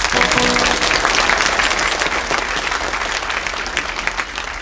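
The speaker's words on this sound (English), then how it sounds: "Let's give them another round of applause." An audience at a community theater performance of Snow White in Moro, Oregon claps steadily throughout, a dense wash of applause that holds strong and tapers only slightly toward the end.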